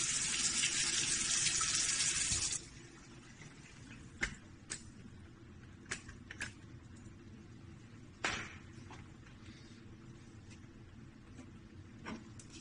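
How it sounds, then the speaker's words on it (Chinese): Hot water flows from the tap of a smart bathroom vanity water heater, a broad steady rush for about two and a half seconds, then quieter background with a few brief clicks and knocks. "热水这边已经在开始出水了"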